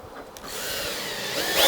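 A power drill drives screws into a wooden sandwich board sign, a steady rising whir that builds in loudness toward the end, close and alone.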